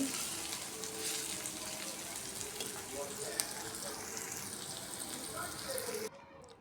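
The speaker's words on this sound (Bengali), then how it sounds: "এখানে 2 পিস ইলিশ মাছ আমার জন্য ভেজে নিচ্ছি একটু পেঁয়াজ দিয়ে।" Two pieces of hilsa fish fry with onion in a home kitchen, a soft continuous sizzle with light crackle heard close but fairly quiet, with faint background sounds, cutting off abruptly near the end.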